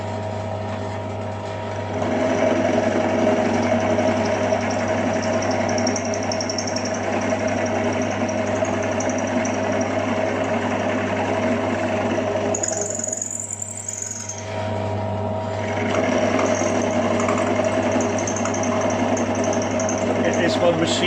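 Lathe machining a valve rod for a 2-inch scale Fowler showman's traction engine, a steady whirring machine drone with a low hum that briefly drops away in the middle before resuming.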